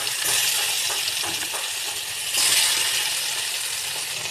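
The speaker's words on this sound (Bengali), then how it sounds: "একটা একটা করে মাছ ভাজা করে নেবো" Fish pieces fry in hot oil with turmeric and salt in a wok, a dense, steady sizzle up close with a few faint taps and a brief surge of spattering partway through.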